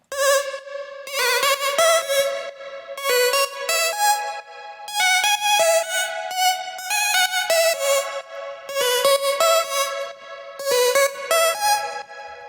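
Bright synth bass notes for slap house played in short rhythmic phrases, each held tone wavering with a steady LFO vibrato wobble, loud and alone with no voices.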